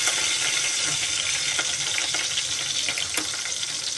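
Curry leaves hit hot oil with browned garlic in a pan, giving a steady, close, hissing sizzle with faint crackles throughout.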